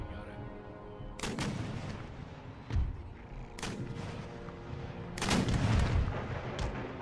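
Musket volleys from massed infantry units in Empire Total War, several loud crackling bursts of gunfire with booming reports, one near and heavy, over a continuous rumbling battle din.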